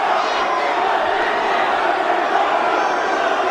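Dense, roaring wrestling arena crowd in Las Vegas, a continuous wall of cheering and shouting that stays loud and steady throughout with no pauses.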